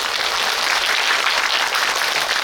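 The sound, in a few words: audience applause at film screening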